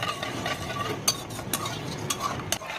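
Semolina ladoo mixture with sugar is stirred and fried in a pan, a spoon scraping with steady, uneven strokes over a soft sizzle. Several sharper clinks and scrapes stand out, close and fairly loud.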